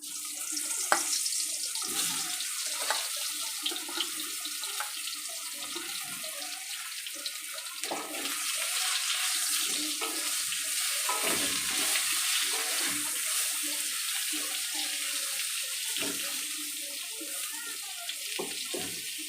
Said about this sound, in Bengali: পটলের মধ্যে লবণ হলুদ মাখিয়ে নিয়েছি। এবারে তেলের মধ্যে দিয়ে দেব।